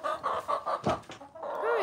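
Chickens clucking close by in a backyard flock, a run of repeated bursts with a brief squawk in the middle and a rising call near the end.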